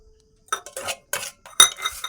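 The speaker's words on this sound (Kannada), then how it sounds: "ಅದೇ ಪಾತ್ರೆಗೆ ಅನ್ನ ಮತ್ತು ಮೊಸರು, ಅದಕ್ಕೆ ಸ್ವಲ್ಪ ಒಂದು ಚಿಟಿಕೆ ಅಷ್ಟು ಉಪ್ಪು ಎಲ್ಲ ಹಾಕ್ಕೊಂಡು ಅದೇ ಪಾತ್ರೆನಲ್ಲಿ ಕಲಿಸ್ಕೊತೀನಿ" A spoon clinks against a pot while rice and curd are mixed together with a pinch of salt, giving a few separate bright scraping and clinking bursts, close and fairly loud, with no talking.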